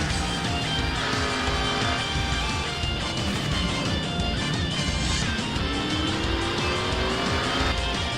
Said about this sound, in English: You folks are not going to believe how Anthony McClure got through this pileup without a scratch